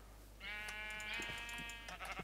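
A single drawn-out sheep bleat from a Minecraft sheep, clear and fairly loud, lasting over a second with a quiet game background before and after.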